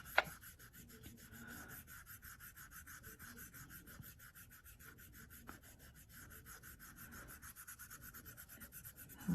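Polymer clay template laid face down being burnished, a steady soft rubbing and scraping that runs the whole time with a regular back-and-forth rhythm, close and fairly quiet.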